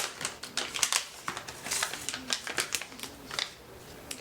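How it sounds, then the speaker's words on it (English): Ringke Fusion X iPhone case packaging being torn open, a rapid series of crisp, close tearing and crinkling bursts that crackle continuously for several seconds with no talking. "So we're going to tear it open here"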